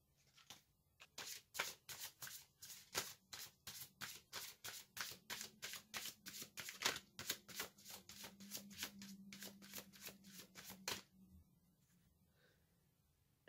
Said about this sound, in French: Alors maintenant, je vais tirer des cartes d'oracle.